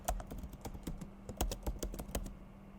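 Rapid, uneven clicking of keys on a computer keyboard, close and clear, with bursts of keystrokes and brief pauses over a quiet hum.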